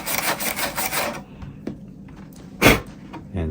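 Lexan RC car body being scuffed up: a burst of rapid abrasive rubbing strokes, then scattered scrapes and a sharp louder rub near the end, close up with no speech.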